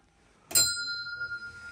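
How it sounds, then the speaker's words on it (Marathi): A single bright temple bell strike rings out in Kaza, Spiti, and its clear metallic tone lingers, slowly fading over a quiet background. "इकडे घंटी वाजते"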